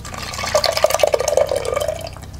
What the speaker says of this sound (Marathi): तर आपण ह्यामध्ये घालूया पिळून घेतलेला रस